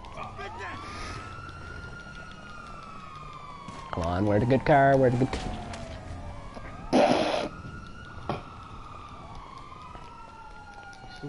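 A wailing police car siren sweeps up and down repeatedly in Grand Theft Auto, with someone talking over it and brief bursts of other game noise.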